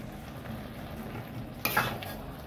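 Half-cooked bottle gourd being stirred with a fried spice paste in a low-oil pan for prawn curry: a faint, steady background sizzle broken by one short scraping stir of a spoon, no talking.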